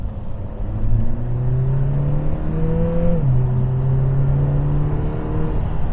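The turbocharged four-cylinder engine of a Lotus Emira i4 pulls hard under acceleration from inside the car, a steady rising drone with a brief dip at a gear change midway, then climbing again.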